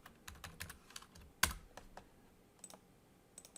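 Typing on a computer keyboard, a string of light, close key clicks in an uneven rhythm with one sharper keystroke partway through, and no one speaking.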